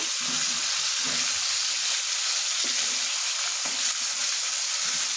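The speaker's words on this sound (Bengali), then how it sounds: "আর একটু মশমশে করে ভেজে নেব" Fish frying in a pan until crisp, a steady close sizzle that runs unbroken throughout with a few faint stirring knocks and no speech.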